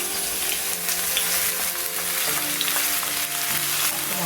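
Crushed garlic and ginger paste hits hot oil for kaya fry, producing a loud, dense, unbroken sizzle with a crackling hiss that fills the whole stretch, close up and without speech.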